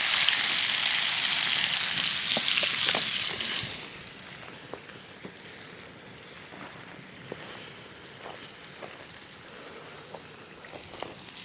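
Peppered bacon sizzles in a pan over an open campfire, a steady hissing fry that is loudest during the first few seconds and then settles into a quieter crackle with scattered pops. No voices are heard.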